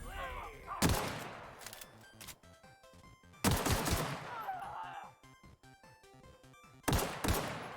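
Gunfire in The Outer Worlds comes in three heavy blasts, each followed by a decaying rumble, with quieter game sounds and scattered clicks between them.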